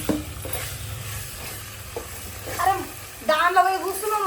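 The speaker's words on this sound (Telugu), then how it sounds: "కలపాలి మళ్ళా" Chicken curry frying in a pan with ginger paste and spices, stirred in a home kitchen; scraping strokes and a soft sizzle run under brief bursts of nearby talk.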